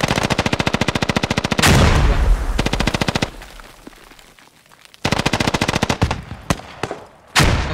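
Automatic weapon fire in the tactical shooter game Squad, with loud rapid bursts of machine-gun shots, then a pause and more rattling volleys nearby, ending with a sharp blast.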